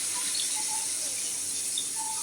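Water poured from a tap or jug into a cooking pot of broiler chicken curry with taro, a steady close hissing splash with faint gurgles, alone and fairly quiet.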